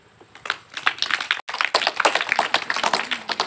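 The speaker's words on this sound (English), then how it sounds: "Clap for him." A room of students claps for a classmate after he answers correctly, a burst of close, brisk hand claps that continues steadily for a few seconds with one brief pause.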